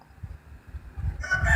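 A rooster crows once, its call swelling in from a quiet, low rumbling background near the end and sounding moderately close.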